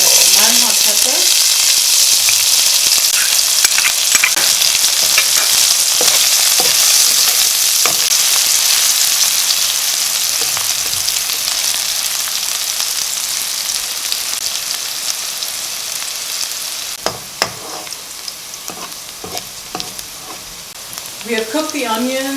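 Onion, hot pepper and whole jeera fry in hot oil with a loud, continuous close-up sizzle, broken by occasional stirring scrapes and pops.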